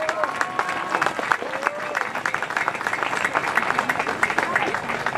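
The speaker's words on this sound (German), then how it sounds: "Einmal einen großen Applaus für unseren Bertl Neubauer." An audience applauds at a German-language speech event, steady dense clapping from many hands filling the whole stretch, with a voice carrying over the ovation.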